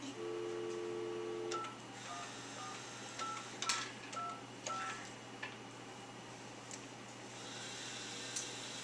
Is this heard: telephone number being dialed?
yes